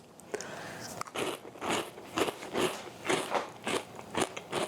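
Crunchy organic corn rings with a hot onion flavor being bitten and chewed close up, a run of repeated crisp crackling crunches in a steady chewing rhythm, loud and isolated with no talking.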